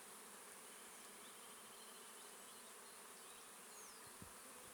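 Dense, steady buzzing of many honeybees in a hive, a soft continuous hum with a brief low bump near the end.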